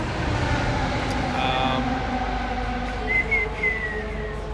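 A person whistles a few thin, wavering notes over a low rumble of traffic, faint and hesitant, with a short trill near the end.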